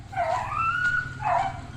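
A neighbour's dog on the far side of the property barks and whines angrily, one drawn-out rising yelp followed by another, moderately loud over a low background rumble.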